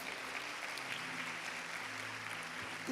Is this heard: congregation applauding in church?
yes